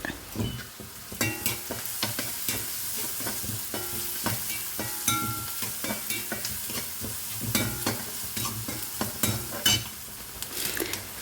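Beans with curry leaves being stirred in a hot pan, with a rapid run of scraping, clattering strokes over a continuous sizzle, close and fairly loud with no talking.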